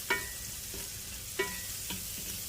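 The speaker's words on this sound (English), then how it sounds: "we're sauteing the onions in the bacon grease" Onions saute in bacon grease in a home kitchen, a soft steady sizzle with a few quick stirring scrapes and light clinks, close and fairly quiet.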